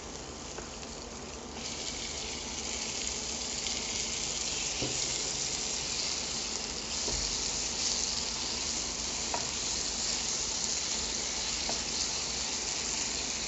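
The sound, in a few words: tomatoes added to hot pan sizzling for rajma masala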